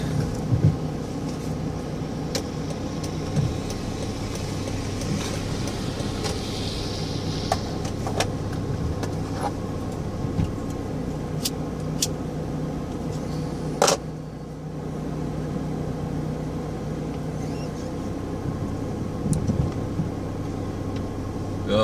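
A car crawls along an icy, snow-covered road in Germany during heavy snowfall, its low engine drone and tyre rumble steady throughout, with a few faint clicks and knocks on top and no talk.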